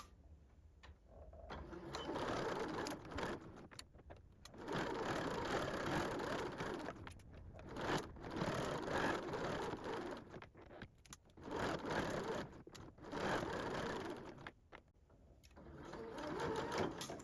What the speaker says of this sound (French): nous allons sous la machine, on va réaliser une couture à 1 cm du bord sur tout le tour de cran à cran